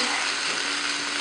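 Brown sugar chicken fingers fry in a pan, giving a dense, even sizzle that holds steady for a brief moment.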